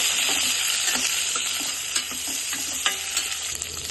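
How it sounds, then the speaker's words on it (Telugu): Drumstick pieces and onions frying in a pan for sambar, a steady bright sizzle running throughout with light rhythmic stirring taps and scrapes close by, no one talking. "అలాగే మునక్కాయలు ఉల్లిపాయలు కొంచెం వేయించుకోవాలి"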